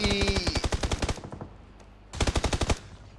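Two bursts of rapid automatic gunfire in PUBG, one loud volley followed by a short pause and a second equally close, sharp burst, with no voices.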